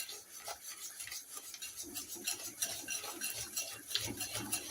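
Beaten eggs being stirred by hand into chocolate cake batter, one egg at a time, with a steady rubbing, scraping rhythm of a utensil against the bowl, fairly close and continuous with no talking.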